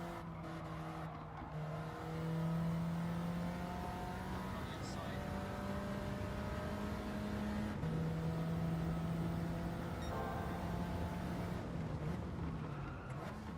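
Race car engine in the video game Gran Turismo 7, a continuous droning whine that rises and dips in pitch through gear changes on a final lap, heard steadily throughout.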